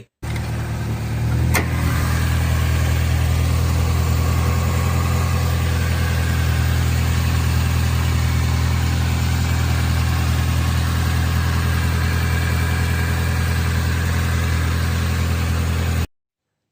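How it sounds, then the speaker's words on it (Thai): The engine of a 2002 Toyota Corolla Altis 1.8 automatic idles steadily and loudly nearby, a constant low rumble after a brief click at the start, with no voices. "เสียงเครื่องยนต์ก็จะประมาณนั้นนะครับ"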